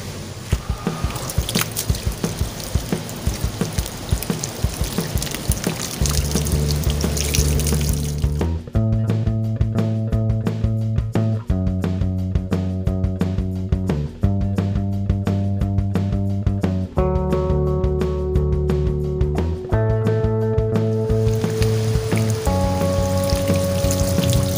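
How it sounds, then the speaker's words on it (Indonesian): Water is poured and sprayed over the roots of a waru bonsai set on a rock, a splashing, dripping wash that is clear at first and then continues under steady, tonal background music. "Ini kita siram dulu sekarang sahabat."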